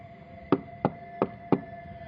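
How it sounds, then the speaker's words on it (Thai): Four crisp knocks on a door land at a fairly even pace, close and distinct against a quiet background. "เสียงเคาะประตูก็ดังขึ้น"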